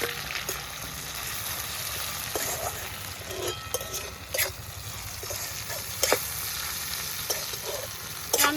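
Radhuni seeds, onion and garlic fry in hot oil in a pan for a shrimp and taro-stem dish, giving a steady, close sizzle broken by occasional sharp clicks and scrapes of stirring.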